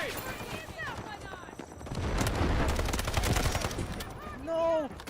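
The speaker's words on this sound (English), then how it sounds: "Someone's on the Gatling gun." A Gatling gun fires in Apex Legends during the ALGS championship, a fast, rattling stream of shots lasting a couple of seconds, with a voice talking over it.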